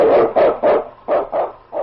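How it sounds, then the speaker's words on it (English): A sled dog barks as a radio drama sound effect, six sharp, evenly spaced woofs close to the microphone with short gaps between them. "It's Yukon King, swiftest and strongest lead dog of the Northwest"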